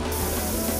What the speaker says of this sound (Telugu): వాడు ఏదో స్ప్రే కొడుతున్నాడు